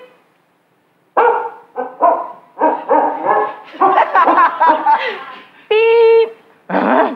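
A voice imitates a dog, giving a quick run of barks and yips close up, with a final sustained woof-like call.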